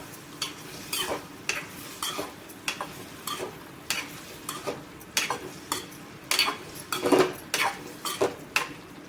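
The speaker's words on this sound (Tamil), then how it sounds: "அடுப்பை வந்து மீடியமாக வச்சுட்டு ஒரு நிமிஷத்துக்கு மட்டும் கலந்து விடுங்க போதும்" An egg fry being stirred in a pan on medium heat, with repeated metallic scrapes and clinks from the spoon in an uneven rhythm over a faint sizzle.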